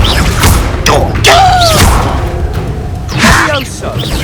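A Confringo fire spell going off in Hogwarts Legacy, with booming thuds and whooshing bursts. Game voices talk over it throughout.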